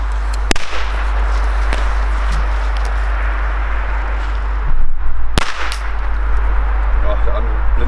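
Old Chinese firecrackers go off outdoors as two sharp, loud bangs and a few smaller pops, several seconds apart, over a steady windy hiss.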